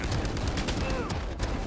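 Gunfire crackles in a round of the video game Valorant: a short series of loud, sharp shots and impacts packed closely together, with a player's voice faintly mixed in.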